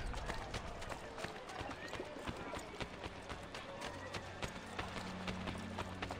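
A horse galloping in Assassin's Creed Brotherhood with rapid, steady clip-clop hoofbeats, running continuously under other game sounds.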